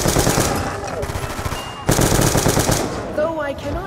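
Rapid automatic gunfire from the video game Buried, two sustained bursts separated by a brief pause, loud and close, followed by a short electronic whine.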